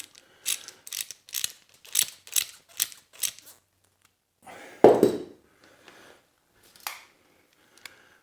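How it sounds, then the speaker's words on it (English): Ratchet winding a tight-fitting bolt into a pipe on a Royal Enfield Interceptor 650, a series of short close clicking bursts in even rhythm, then a louder clunk and a few sparse clicks. "I've wound the bolt in it"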